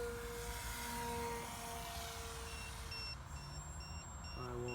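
A drone in flight gives a low-battery warning as a string of short, high, evenly spaced beeps over the steady hum of its motors, both faint and at a distance.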